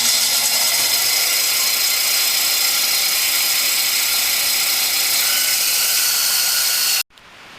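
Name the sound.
small bandsaw cutting wood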